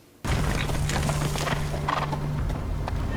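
Horse moving through a scene in the Korean period drama Kingdom, heard as loud hoof clip-clops and movement under a dense dramatic background that starts abruptly and continues steadily.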